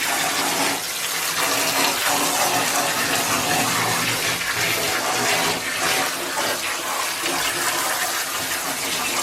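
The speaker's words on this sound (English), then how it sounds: "The next step would be to rinse it with cold water." Steady cold running water pours continuously over fabric for several seconds, a full, close splashing rush with no pauses or voices.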